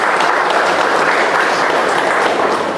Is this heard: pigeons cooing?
no